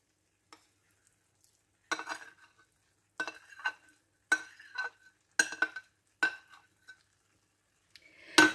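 Vegetables frying and being stirred in a pan for a quick rice dish with chicken breast: several short scraping, sizzling bursts spaced a second or so apart, with quiet gaps between.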